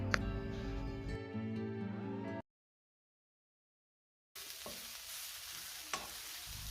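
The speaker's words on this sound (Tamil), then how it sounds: "இது கூட நாங்கள் அரைச்சி வச்சுருந்த சிக்கனையும் ஆட் பண்ணிட்டு நல்லா வதக்கி விட்டுக்குவோம்" Chicken with ground masala, cumin and turmeric stir-frying in a pan, a faint sizzle with stirring scrapes and clinks, cutting out briefly before the sizzling resumes.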